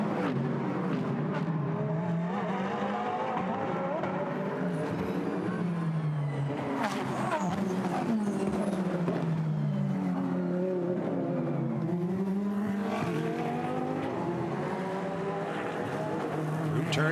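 GT race cars, a Ferrari among them, roar around a street circuit in Nashville, engines whining and shifting as they accelerate and pass, a continuous loud pack sound with a commentator talking over it.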